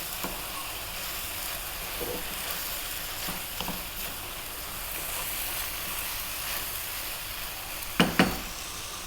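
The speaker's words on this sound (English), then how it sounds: "3 minutes or so, stir frying this around." Rice noodles and seafood sizzle steadily as they are stir fried in a hot pan, a constant hiss broken by a few scraping clinks of a utensil against the pan.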